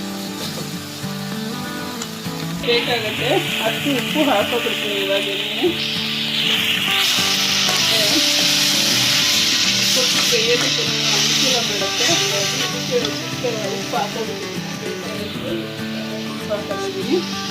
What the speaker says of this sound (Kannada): ಇವಾಗ ಕರಿಬೇವು ಹಾಕೊಳ್ತೀನಿ ಮತ್ತು ಕೊತ್ತಂಬರಿ ಹಾಕೊಳ್ತೀನಿ ಇದೆಲ್ಲ ಸ್ವಲ್ಪ ನೀರಿನ ಅಂಶ ಎಲ್ಲ ಕಡಿಮೆ ಆಗೋವರೆಗೂ ಚೆನ್ನಾಗಿ ಬಾಡಿಸ್ಕೊಳ್ತೀನಿ